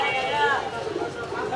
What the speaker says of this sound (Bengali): এখানেও খাঁচা ভর্তি কবুতর, অসংখ্য কবুতর পাওয়া যায় এই হাটে।